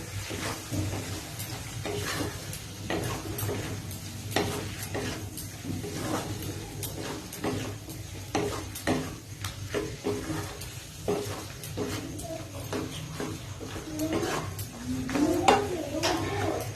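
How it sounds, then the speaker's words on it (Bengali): Egg frying in a pan for chowmein is stirred, with repeated scraping and clinking of a utensil against metal over a steady frying hiss. "ভালো করে নাড়িয়ে দেবো।"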